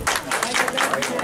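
Applause from a crowd at an Easter Monday folk gathering in Sanad, a steady broadband patter of clapping hands lasting about a second, moderately loud and close, with some voices mixed in.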